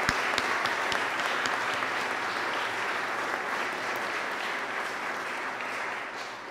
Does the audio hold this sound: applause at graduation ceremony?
yes